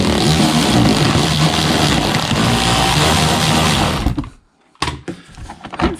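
An electric ratchet whirs loudly and continuously up close while backing out screws on a Vauxhall Corsa D rear bumper, then stops abruptly, followed by a short pause and a few clanks and knocks.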